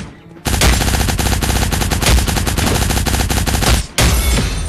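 Rapid automatic gunfire from the video game Cyber Hunter Lite rattles loudly in a dense continuous burst, breaks off for a moment, then resumes.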